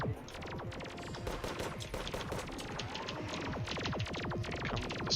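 Rapid video game gunfire, a dense run of quick sharp shots in fast repeating bursts over a low electronic hum, fairly quiet and with no voice over it.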